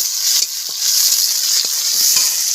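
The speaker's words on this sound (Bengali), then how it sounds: "দেবো পেঁয়াজ কুচি, একটু কষানোর পরে দিয়ে দেবো রসুন কুচি।" Chopped onion and garlic sizzle in oil in a pan over a wood-fired village stove, a steady loud hiss broken by a few soft scrapes of stirring, with no voices.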